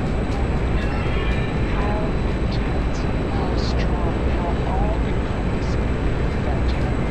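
A MiG-21 jet in the DCS flight simulator gives a constant loud engine roar throughout, dense and steady with faint tonal whines on top.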